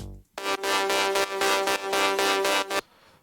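Two layered synth basses for a liquid drum and bass mix, a bright buzzy sustained tone with rhythmic gated pulses, loud and alone for a few seconds before cutting off.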